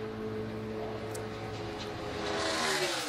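NASCAR Nationwide race car, the Joe Gibbs Racing No. 18 driven by Joey Logano, on a qualifying lap: a steady high engine drone that swells slightly toward the end, heard from a distance with no talking.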